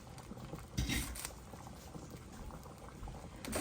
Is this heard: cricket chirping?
no